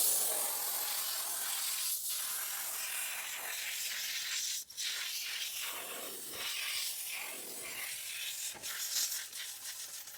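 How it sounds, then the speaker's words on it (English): Compressed air from a hose blasts against an air conditioner's outdoor coil, a steady loud hiss with brief surges and dips throughout, no voices. "Next, we're going to try an air hose."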